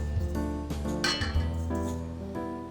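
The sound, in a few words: brown sugar being put into a mixer bowl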